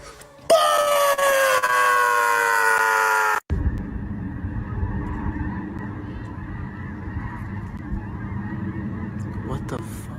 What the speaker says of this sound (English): That's birds. I think you can hear it, can you?